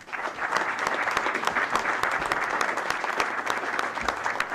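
Audience at a school board of education meeting claps for a student of the month, a steady burst of many hands with sharp individual claps standing out, loud and sustained throughout.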